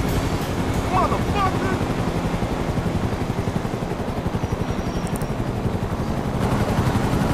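Helicopter in the video game GTA 5 gives a steady, loud rotor thump throughout, with engine roar filling the whole stretch and faint other game noises on top.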